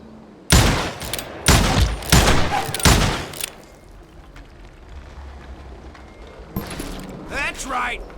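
Loud, close gunshots in Call of Juarez Gunslinger, three or four heavy blasts in quick succession early on, then a quieter stretch and a further burst of firing near the end, with voices heard amid the shots.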